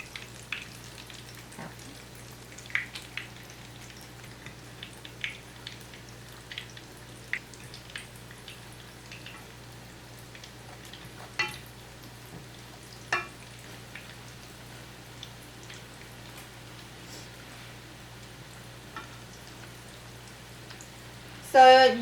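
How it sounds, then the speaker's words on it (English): Spanish croquetas frying in hot oil give a faint, steady crackle dotted with small pops through the whole stretch, with a louder clatter right at the end. "These fry really fast because they, it's only the outside that needs to cook."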